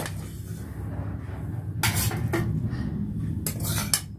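Vegetable curry of beetroot, carrot, potato and peas is scooped from a pot into a bowl, with a few sharp metal spoon scrapes and clinks against cookware over a quiet room hum.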